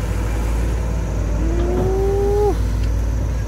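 A SANY SY215C-SuperACE excavator engine heard up close at a reservoir earthworks site, a steady loud diesel drone with a rising whine briefly sliding over it midway.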